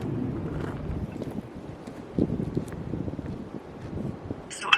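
Gusty wind buffets the microphone outdoors in a garden, a low rumbling roar that swells and eases in irregular surges, close and fairly loud, with no speech.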